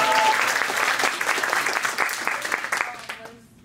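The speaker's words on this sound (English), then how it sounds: "give a round of applause to Nathan" Audience applause for Nathan at an Insight Speaker Series evening, a thick wash of clapping from a crowd that fades out quickly at the end, with faint voices mixed in.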